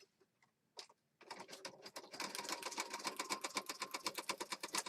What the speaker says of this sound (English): so we're going to stitch around this piece.